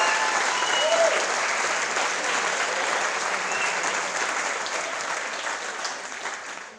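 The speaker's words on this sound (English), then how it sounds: "I actually thought of a fun fact while you guys were clapping" Wedding guests applaud in a continuous, even wash of clapping that holds steady for several seconds and only slightly eases near the end.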